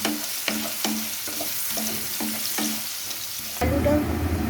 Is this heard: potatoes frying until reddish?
yes